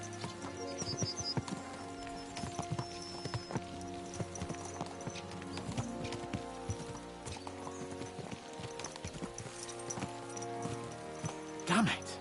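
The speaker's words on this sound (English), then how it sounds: "Let's really spur these horses on, eh?" Steady hoofbeats of horses galloping in the video game Kingdom Come, a continuous clip-clop rhythm with a brief louder burst near the end, under game music and talk.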